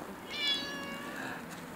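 Cat giving a single drawn-out meow, fairly close and moderately loud against a quiet background.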